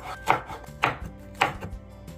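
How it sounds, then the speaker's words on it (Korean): A knife roughly chops red chili pepper on a cutting board, four sharp, evenly spaced cuts close up, with quiet background music between them. "듬성듬성 썰어 주세요."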